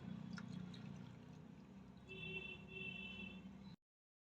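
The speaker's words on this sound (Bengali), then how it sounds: "1 কাপ দুধ দিচ্ছি।" Milk poured from a cup into a pot of basanti pulao rice on the stove, a soft steady liquid stream with light splashing, close and moderately quiet, ending abruptly after a few seconds.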